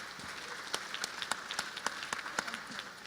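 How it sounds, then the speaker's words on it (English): Audience applause for conference panelists at a policy session, a steady wash of clapping from a crowd with sharper individual claps popping out irregularly across the whole stretch. "A big applause to our panelists."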